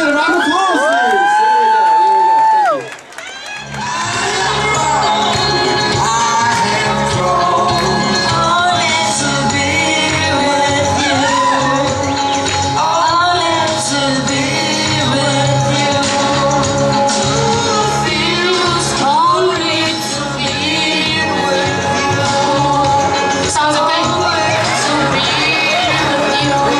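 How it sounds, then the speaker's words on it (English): A crowd at a U2 ticket giveaway event cheers, whoops and applauds loudly and continuously, with shouting voices mixed into the roar. "A round of applause, please."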